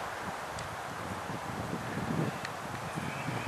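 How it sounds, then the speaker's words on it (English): Cold wind blowing steadily outdoors at a farm on a March day, a continuous broadband rush with gusty buffeting on the microphone and faint rustling, with no voices. "Cold and windy today."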